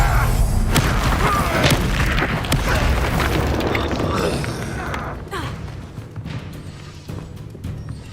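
The Incendio fire spell in Hogwarts Legacy erupts as a loud booming whoosh of flame with crackling, rumbling debris that gradually fades into softer game ambience and scattered thuds.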